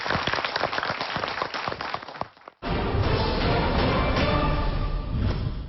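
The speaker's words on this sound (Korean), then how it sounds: "오늘 저 수고해주신 두 분께 박수 보내주세요" A studio audience applauds on a Korean TV health show, dense steady clapping that swells in loudly after a brief dip and keeps going at full strength.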